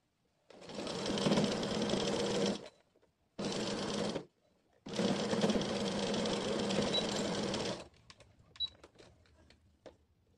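A sewing machine runs in three loud, steady whirring stretches while stitching a dress, separated by brief pauses, followed by a few small clicks and taps near the machine.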